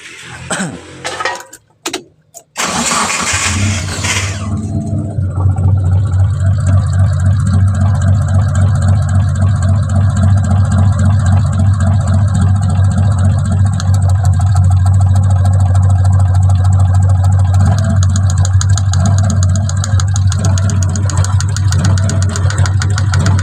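A Toyota T120SS fuel-injected car engine cranks briefly with a few sputters, catches and settles into a loud, close, steady idle with a deep droning hum and slight uneven roughness.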